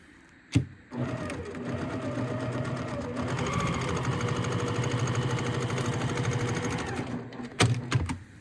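A sewing machine runs steadily for about six seconds, stitching the sides of a fabric Monopoly house tissue box cover, with handling clunks just before and after the run.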